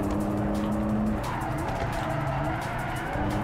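A Toyota Supra in the Project Cars 3 racing game slides with loud, continuous engine roar and a sustained tire squeal throughout, with no talking.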